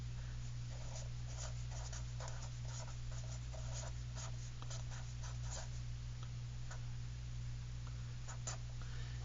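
Scientific notation being written by hand, with quick scratchy strokes and taps coming in short irregular bursts over a steady low electrical hum.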